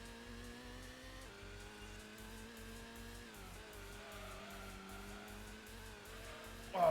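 A TVR Cerbera races in Gran Turismo, its engine giving a steady, loud, roaring drone over a pulsing low throb, with the pitch shifting as it changes speed and a sharp louder burst at the very end.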